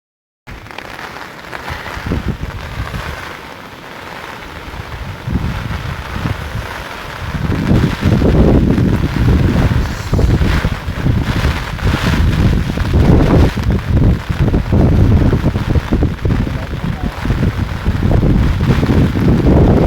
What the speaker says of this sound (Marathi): पाऊस पण खूप जोरात आहे